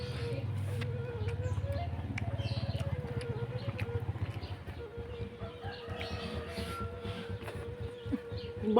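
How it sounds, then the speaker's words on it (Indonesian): A single housefly buzzes near a kitchen where fish is being cooked, its drone rising and fading close by, while chickens cluck faintly in the background. "ada lalat guys, bukan banyak. Ada satu nih mengganggu"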